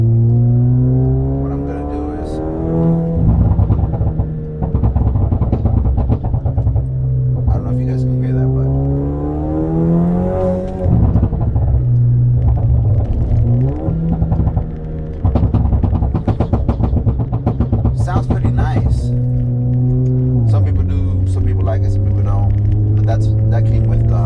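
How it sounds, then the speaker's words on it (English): Alfa Romeo Stelvio in dynamic mode with a tuned exhaust, its engine revving up and down through repeated loud acceleration pulls, with crackling pops between surges, heard up close. "I added some pops and bangs."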